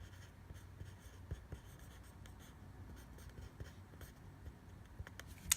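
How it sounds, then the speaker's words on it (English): Hunt 101 nib scratching walnut ink across paper while drawing copperplate capital stems, a soft, quiet stream of pen scratches and light ticks in a hushed room. "right now I'm using walnut ink and I'm using a Hunt 101 nib"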